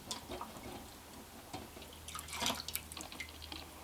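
Hollowed kousa squash being rinsed in a bowl of salted water, soft splashing and dripping close by, quiet and irregular with a brief louder slosh midway.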